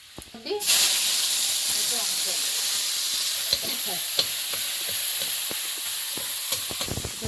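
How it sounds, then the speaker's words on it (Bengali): Five-spice seeds, turmeric and salt hit hot oil in a kadai, bursting into a steady loud sizzle after a brief quiet start, with small crackles and pops scattered through the hiss. "পাঁচ ফোড়ন দিয়েছি হলুদ দেবো লবণ"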